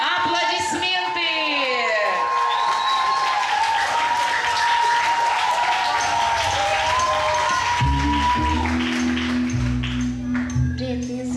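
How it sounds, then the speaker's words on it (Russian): Lively audience applause at a children's camp talent show rolls on continuously, with whistles and cheers over the clapping and music starting up near the end. "Бурные аплодисменты!"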